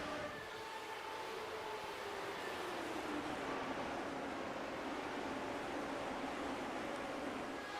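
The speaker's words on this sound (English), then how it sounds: "Long train running here." A long train passes near a race track at Legacy Phoenix, giving a continuous broad rumbling roar with faint drawn-out tonal whines that holds steady for several seconds, with no voices.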